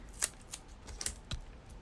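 Scissors snipping a small piece of paper off a junk journal cover, a few quick, faint crisp cuts close by with no talk.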